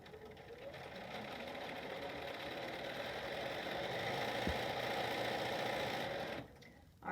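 A sewing machine stitches a fabric face mask in one continuous close, steady whirring run that stops near the end.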